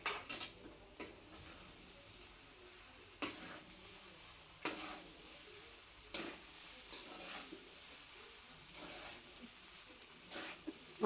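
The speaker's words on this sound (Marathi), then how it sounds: "तर आपण याला हलवून घेऊया आता" A spoon stirs veg paneer pulao in a pot, giving sharp intermittent scrapes and clinks every second or so over a faint background sizzle, close and fairly quiet.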